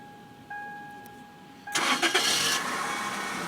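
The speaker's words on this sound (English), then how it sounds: "Sound like it start." A car engine cranks and catches after being triggered by a Viper remote starter, firing up abruptly about halfway through and settling into a steady idle, preceded by a faint electronic tone.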